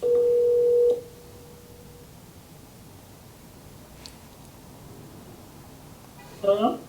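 A telephone ringback tone sounds once for about a second while a call is placed, followed by a long stretch of quiet line hiss and a brief faint voice at the end.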